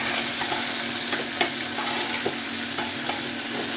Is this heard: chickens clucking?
no